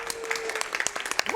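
Scattered clapping from a small crowd at a speedrunning charity event, fairly faint and uneven, with a thin steady tone in the background.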